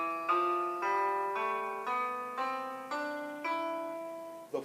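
An E Phrygian scale played as a sequence of eight sustained minor chords, each struck cleanly and left to ring before the next, at a steady, even pace and fairly soft level.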